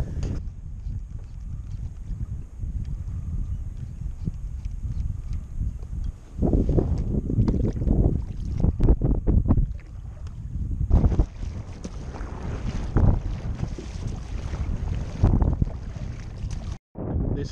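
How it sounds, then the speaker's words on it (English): Heavy wind buffeting a microphone while paddling a kayak into the wind on a coastal lagoon, a steady low roar with gusty surges and rough rumbling throughout, no talk. "Still gonna be really bad wind noise"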